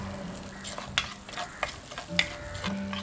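Small shallots dropped into hot oil for Chettinad chicken curry, with a steady sizzle under brief scraping stir strokes and a few sharp clinks of a ladle against the pan, close and moderately loud.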